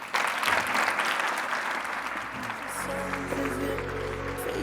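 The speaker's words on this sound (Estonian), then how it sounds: "Aga teeme suure aplausi esimesele 5 kollektsioonile." A fashion show audience gives broad applause for the first collections, dense clapping that continues as bass-heavy music starts up underneath.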